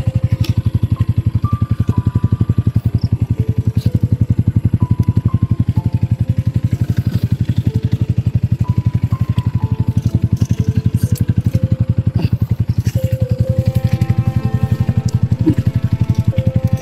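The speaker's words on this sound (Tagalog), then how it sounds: "Nahihirapan yung motor natin tol." A motorcycle engine labours under strain with a loud, close, continuous droning putter that holds steady throughout.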